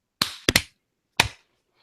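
Podcast hosts clap their hands on a countdown: three sharp, close claps, the second and third in quick succession, followed after a pause by a fourth single clap, with no talking over them.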